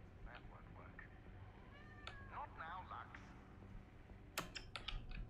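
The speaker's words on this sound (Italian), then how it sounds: "Sento il gatto." A cat meows several times in a row, its rising and falling cries fairly close, with sharp keyboard-like clicks near the end and a low background hum.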